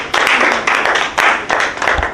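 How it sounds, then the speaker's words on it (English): An audience at a book launch event in Ottawa applauding, loud close clapping in several rolling bursts that swell and fade over about two seconds. "So a nice round of applause for Zimbabwe."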